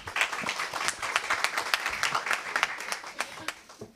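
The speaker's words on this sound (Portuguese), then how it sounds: "Uma salva de palmas" Crowd applause at an environment committee meeting, with dense, irregular clapping that stays fairly steady throughout, moderately loud in a reverberant room.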